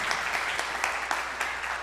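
A church congregation applauds during a sermon, a brief burst of steady clapping with a few sharper claps standing out at regular intervals.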